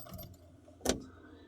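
Car keys for a new 2025 Maruti Suzuki Dzire jangle in one short, crisp metallic burst, close by in an otherwise quiet setting.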